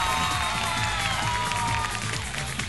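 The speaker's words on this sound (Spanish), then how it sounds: "Palmas para él, por favor, para Camilo VI." Studio audience of a television talent show clapping and cheering in a loud, dense wash of sound, with music or crowd noise filling the background.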